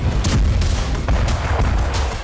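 Continuous heavy booming and rumbling, like a barrage of big explosions in Ukraine, loud and dense with repeated thuds throughout.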